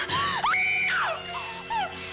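A woman screams in a 1960s Western television drama, loud, close, high-pitched wails with rising and falling pitch, breaking into several shorter cries.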